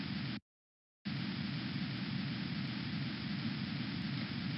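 Steady rain falling as an even, hissing wash of noise that cuts out for a moment of silence and then resumes at the same level, with no clear thunder.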